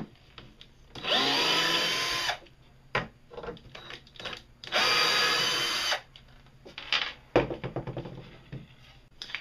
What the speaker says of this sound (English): drill slightly into it for a recess for your bolt